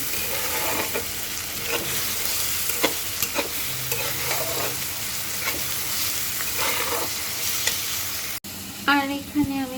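Onions and chilies frying in a pan for a Bikrampur-style rice and potato breakfast, a steady close sizzle with scraping stirs throughout and a brief break near the end followed by clinking.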